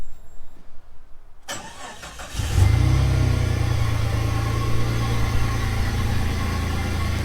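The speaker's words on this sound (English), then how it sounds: "We're gonna crank this sucker up. She fires right up." A Jeep TJ buggy on 42s cranks briefly, then catches and fires up into a steady, throaty idle, close and loud, with no voices over it.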